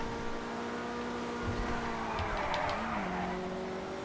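Racing car engines in the video game GTA Online whine and rev with tires squealing and skidding, a continuous engine drone with shifting pitch.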